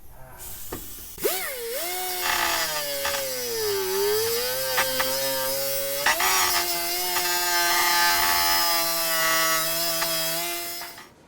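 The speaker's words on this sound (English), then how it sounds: "I found that a straight die grinder with a small cutoff wheel works the best" A straight die grinder fitted with a small cutoff wheel cuts off a rusty bolt head on a W123 driver seat. A loud, continuous high whine runs close up, its pitch dipping and rising as the wheel bites and is worked back and forth.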